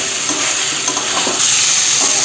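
Steady close sizzle of pre-fried vegetables, potato, pointed gourd and soybean chunks, sautéing in spiced oil in a pan, with soft stirring scrapes through the hiss.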